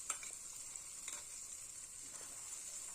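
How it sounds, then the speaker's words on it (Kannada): Green chilli and potato masala frying in oil in a pan as part of a potato gravy, a soft, steady sizzle with a few faint stirring clicks, quiet and close. "ಇದು ಸ್ವಲ್ಪ ಹೊತ್ತು ಎಣ್ಣೆಯಲ್ಲೇ ಫ್ರೈ ಮಾಡ್ಕೋಬೇಕು"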